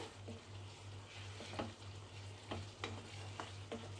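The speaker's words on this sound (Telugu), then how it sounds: "ఒకసారి బాగా అంతా కలిపేసేసుకోవాలి" Spiced shrimp and bottle gourd curry stirred in a pan, faint sizzling with a series of soft spoon scrapes and taps at irregular intervals, no voices.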